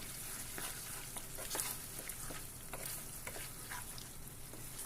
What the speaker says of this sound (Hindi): मैंने इसके अंदर दही डाल लिया है। और फिर अब हम इसको मिक्स करेंगे।